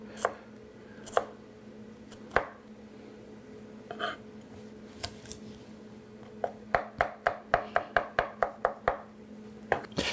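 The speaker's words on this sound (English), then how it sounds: "Easiest way with the garlic is just to chop it a little bit. That's what we're doing here." A knife chops garlic on a cutting board, scattered sharp knocks at first, then a quick regular run of about a dozen close taps.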